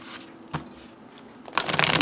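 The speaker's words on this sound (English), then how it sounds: "This is a rifle shuffler's dream." A tarot card deck is riffle shuffled: a quick tap, a pause, then a loud, dense rush of cards flicking together at close range over the final half second, with no talk.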